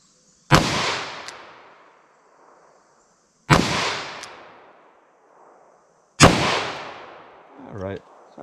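Three loud revolver shots ring out one by one at even intervals outdoors, each a sharp crack trailing into a long echoing decay, with a faint metallic click after the last.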